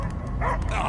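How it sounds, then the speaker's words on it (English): Dog barking in the Guardians of the Galaxy video game, a short run of yips and barks over a low steady game backdrop with some mixed voice sound. "I hear only barking."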